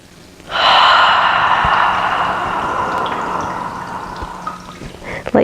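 A long, deep yoga sun breath, a strong airy inhale that rises suddenly and then slowly fades into a softer, drawn-out exhale, close and alone.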